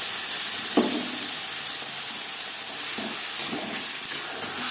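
Ginger, green chilli, garlic, onion and tomato pastes fry in refined oil in a kadai for an egg chicken tadka, a steady close sizzling hiss with a few soft stirring scrapes, no voices.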